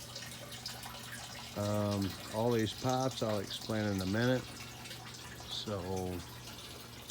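Water trickles steadily from a bulkhead fitting down into an aquaponics sump tank, a soft continuous flow running beneath a man's speech.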